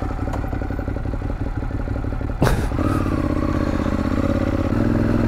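Kymco scooter engine running steadily nearby with a mid-pitched drone, a sharp clatter partway through, then the engine note rising and holding louder.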